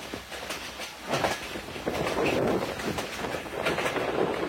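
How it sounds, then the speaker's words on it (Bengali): A Joydebpur commuter train runs at about 60 km/h, its wheels clattering over the rails in a loud, continuous rumble with rhythmic clickety-clack bursts, heard from on board. "আমাদের ট্রেনটির গতি 60 কিলোমিটার উঠিয়ে ফেলেছে।"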